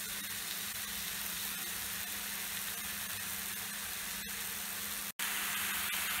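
Bacon-wrapped beef steak rolls filled with cheese sear in a dry pan, giving a steady, even sizzle that runs throughout with one brief dropout near the end and no talk.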